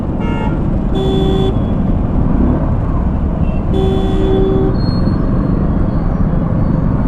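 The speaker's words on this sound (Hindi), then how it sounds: "पीछे एक टैक्सी खड़ी है अल्टो, वो हॉर्न दिए जा रहा है" An Alto taxi behind honks its car horn in two clear blasts, the first short and the second longer, over loud continuous road and engine rumble.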